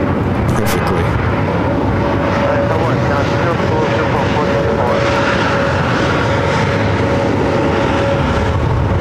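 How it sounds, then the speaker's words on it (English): Boeing 777 airliner at LAX, a steady loud engine roar filling the whole clip with continuous broadband rumble and a faint whine, no pauses. "Actually, no, we're going to go back to that 777."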